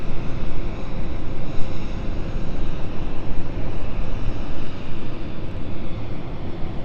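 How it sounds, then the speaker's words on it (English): A Cessna Mustang business jet passes at London City Airport, its loud, broad engine roar swelling and wavering close by for several seconds, with no voices. "we watch the Cessna Mustang pass the German Airways"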